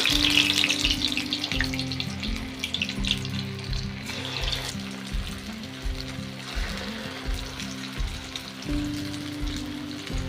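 Potato and puffed-rice pakodas fry in hot oil with a loud, continuous sizzle close by, and soft rhythmic thumps repeat underneath throughout.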